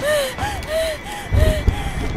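A woman in labor gasps and breathes hard in Outlast 2, with a run of sharp rising gasps at a steady pace, followed by heavier, rougher panting and snorting close up.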